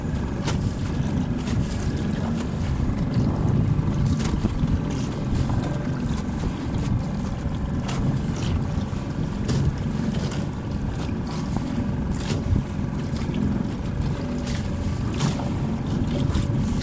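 A sailboat pitching over a choppy sea, with steady loud rushing water and wind buffeting close to the microphone, occasional sharp knocks and splashes, and no voices.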